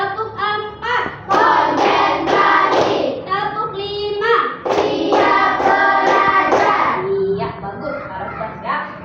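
A primary school class does a call-and-response clapping game, with children's voices chanting over sharp bursts of group clapping and several short rhythmic rounds of hand claps close by.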